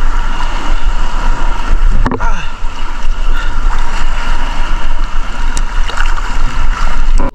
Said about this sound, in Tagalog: ahon na tayo kasi ang lalakas na ng alon